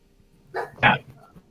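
A dog indoors gives two sharp barks close together, followed by a faint yip, near and moderately loud against a quiet room.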